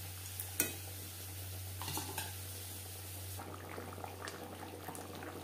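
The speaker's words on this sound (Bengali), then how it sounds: "গ্রেভির সাথে মাছ আরও 3-4 মিনিট রান্না করব।" Fish simmering in a ginger and cumin paste gravy gives off a low bubbling and faint sizzle, with a few clinks of a utensil against the pan and light stirring near the start, under a steady background hum.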